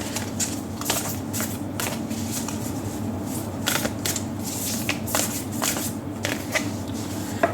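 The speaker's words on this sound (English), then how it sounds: "we're going to take out one card from the Lover's Oracle" A Lover's Oracle card deck is shuffled and cards are drawn, with quick papery riffles and soft flicks in uneven bursts, close and fairly quiet, with no talking.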